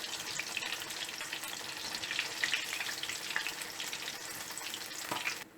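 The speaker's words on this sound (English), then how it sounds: "The oil is hot and on medium heat. I'll drop this," Steady, close-up hissing and crackling of fish frying in hot oil over medium heat, continuous with scattered pops and no talking.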